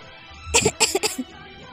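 A woman coughs in a quick close burst of three or four harsh coughs, then gives a short throat sound in an otherwise quiet room.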